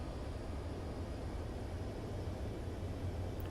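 Steady jet engine drone from a fighter plane climbing in Ace Combat 7 played in VR, a continuous low rumble with broad hiss that holds even and unbroken throughout, no voices over it.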